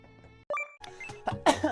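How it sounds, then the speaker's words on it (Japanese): A sneeze erupts near the end of a brief stretch of close, loud vocal sounds, following a short sharp intake of breath. "ごめん、くしゃみしちゃった。"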